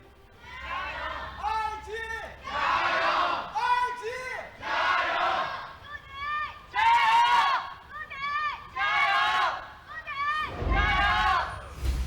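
A live arena crowd at an LPL League of Legends esports match between Invictus Gaming and Suning Gaming chants a rhythmic cheer in repeated loud bursts, with a brief thumping hit near the end.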